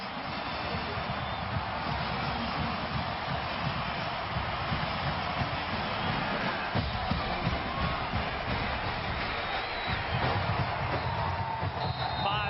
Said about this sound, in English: for the first time in a long time, the crowd is back in it